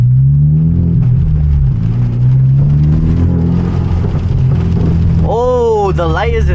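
A manual Hyundai Genesis Coupe with an aftermarket exhaust cruises at night in the rain, its low steady engine drone running close and loud under rain noise, with a rising whine near the end.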